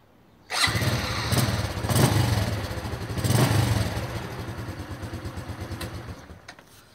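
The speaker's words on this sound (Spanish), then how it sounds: "Fíjense, de arranque instantáneo, el motor muy serenito." A Honda Wave 110 motorcycle engine catches instantly and settles into a smooth, even idle with a couple of gentle revs, close and loud, then keeps ticking over steadily.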